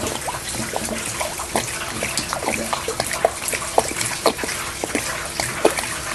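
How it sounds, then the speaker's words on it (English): Everclear alcohol pours and trickles steadily into an engine, with small splashes and glugs throughout, close by. "I'm just going to pour the rest of this Everclear in the engine"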